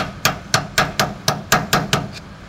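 A hammer strikes metal about ten times in a steady rhythm while a brake lining is being replaced, each sharp, loud, close blow ringing briefly before the next.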